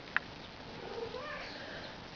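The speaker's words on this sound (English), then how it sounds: "Yes, you can hear my fiance's cat in the background." A cat meows faintly in the background of an otherwise quiet room, a soft, drawn-out call.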